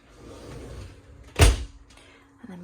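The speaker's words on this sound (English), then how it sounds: "with your sliding doors that meet in the middle" Sliding shower doors in an Elddis Prestige 175 caravan bathroom glide and meet in the middle, giving one sharp close knock after a soft sliding rumble, nearby and moderately loud.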